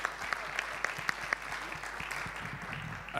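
An audience at a forum on displacement claps in a steady round of applause, many hands patting densely with a few sharper claps standing out, moderately distant in a large room.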